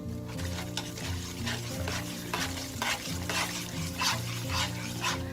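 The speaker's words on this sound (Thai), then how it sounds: "แล้วเราก็คนค่ะให้แป้งละลายค่ะ" Crispy frying flour stirred into hot oil in a pan gives a steady sizzle with a repeated scraping rhythm of the stirring, close up and continuous, with no voices.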